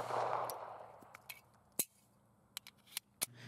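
Shots from a Tisas M1911A1 pistol at an outdoor shooting range: after a noisy opening, four or five sharp, fairly distant reports arrive at irregular intervals over quiet background.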